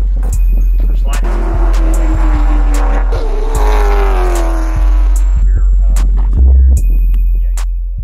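Late model stock car driving at Hickory Motor Speedway, its engine a loud, steady drone with shifting harmonics and a few sharp thumps as it runs the track.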